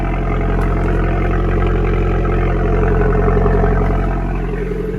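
A small Fiat 500 Abarth engine idles close by with a steady, low burbling rumble and even pulsing rhythm.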